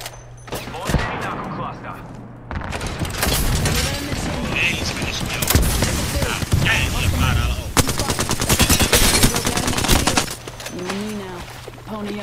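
Video game gunfire with bursts of automatic fire crackling through a busy firefight, loud and dense, mixed with game effects and players talking over it.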